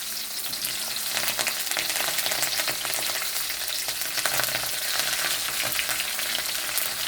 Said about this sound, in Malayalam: അതിലേക്ക് നമുക്ക് കുറച്ച് കരിവേപ്പില,